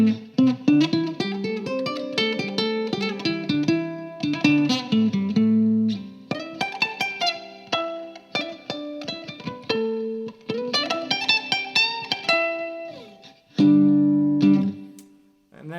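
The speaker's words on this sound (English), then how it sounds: "It's doubling an octave down, so you can hear it when I play one string at a time." A ukulele played through an octave-down doubling effect pedal gives a thick, deep, buzzy tone, with single notes and chords picked one after another and ringing out close and loud.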